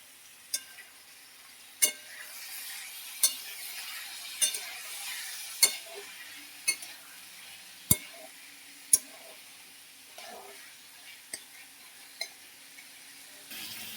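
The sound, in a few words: frying cauliflower, potato and green peas in a pan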